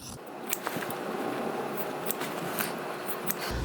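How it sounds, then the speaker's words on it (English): Sharp scissors snip fabric corners close to a stitching line, a series of quiet, crisp cuts spaced irregularly over soft rustling, with no talking. "So I'm going to just trim those off near the stitching line all the way around"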